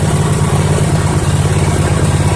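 A biogas generator engine running on gasoline idles steadily at a constant, loud, low throb with no change in pace or pitch.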